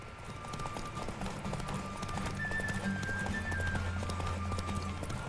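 Horse hooves clip-clop steadily through a race in The Witcher 3, accompanied by a continuous game soundtrack with a sustained tone and an occasional whinny, heard fairly close and unbroken for the whole span.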